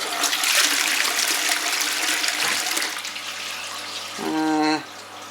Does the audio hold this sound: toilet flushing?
yes